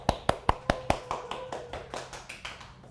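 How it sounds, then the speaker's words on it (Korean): An audience at a youth venture forum claps to welcome a speaker. The applause comes as a short burst of sparse, distinct claps that thin out and fade over a few seconds. "그럼 박수로 모시겠습니다"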